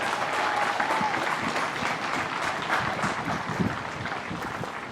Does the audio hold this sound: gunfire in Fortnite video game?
no